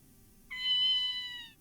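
A cat in the video game Ghost Trick lets out a single drawn-out, clear meow lasting about a second over a quiet background hum.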